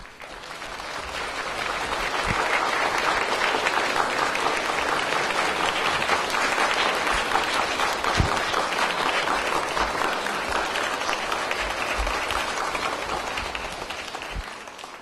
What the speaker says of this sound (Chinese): 我们一起掌声有请索达吉堪布呢入场